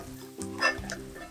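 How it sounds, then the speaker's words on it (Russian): Potato pancakes fry in a pan, a soft steady sizzle and crackle of oil with a brief louder spatter midway, close by and with no talk over it. "Переворачиваем картофельные блинчики и жарим еще по 2-3 минутки с другой стороны."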